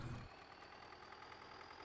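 A tractor engine idles and runs steadily in Farming Simulator 19, a continuous low mechanical drone that stays fairly quiet and even throughout.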